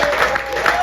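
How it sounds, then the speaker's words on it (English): Audience applause for the musicians at a bass music clinic and birthday shed event: a short, dense wash of many hands clapping at once, lasting under a second. "clap it up for my guys again."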